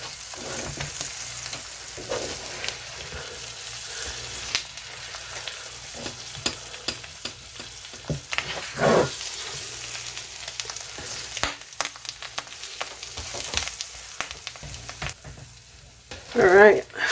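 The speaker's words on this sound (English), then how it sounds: "just wait for the egg to get done." An egg fries in a pan with a constant hiss, broken by frequent scraping and tapping from a utensil and a louder clatter near the end.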